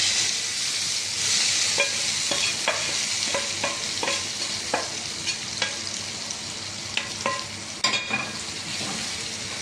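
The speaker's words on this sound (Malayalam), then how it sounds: "ഈ കടുക് വറുത്തത് ഇതിൻ്റെ മുകളിലോട്ട് ഒഴിച്ച് കൊടുക്കാം" Steady frying sizzle with scattered sharp pops and crackles as mustard seeds fried in hot oil are poured over a soya chunk curry, continuing throughout.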